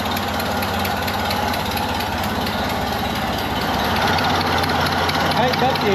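A 1931 Ford Model A engine idles steadily with an exhaust leak at a loose clamp, a continuous close rumble with a rapid uneven chuff running throughout at a constant level.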